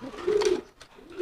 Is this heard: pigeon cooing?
yes